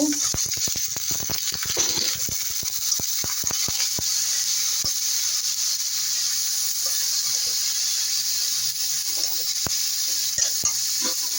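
Bottle gourd sizzles steadily in a hot pan with ginger garlic paste, the frying hiss constant throughout while a spoon scrapes and stirs in quick, irregular clicks, up close with no talking.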